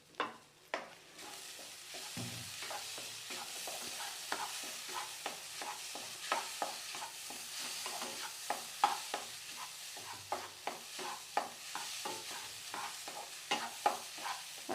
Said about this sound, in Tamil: இது லைட்டாக இப்படி மசிச்சு விட்டாலே போதும், நல்லா மசிஞ்சிரும்.